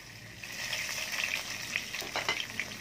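Chopped onion with green cardamom, cloves and black peppercorns fries in a pot for a beef curry, making a soft, bubbling sizzle with light crackles. It sits fairly quiet and close, with no voices.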